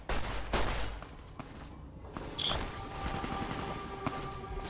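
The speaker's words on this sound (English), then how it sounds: "Who is doing that shooting?" Gunfire in the video game Fallout: New Vegas, a few scattered shots and bursts of varying loudness with one sharp crack standing out, alone with no talk over it.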